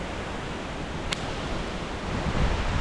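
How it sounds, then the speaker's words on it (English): Strong wind gusts roar steadily through a forest campsite during a flash storm, a broad continuous rush that swells slightly near the end, with one brief sharp tick partway through. "there's some super loud gusts of wind. Some strong gusts for sure"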